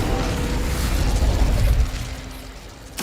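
A fire spell cast in the game Hogwarts Legacy: a dense, loud whooshing burst of flame with heavy low rumble that holds steady for nearly two seconds, then thins out, with a fresh burst at the very end.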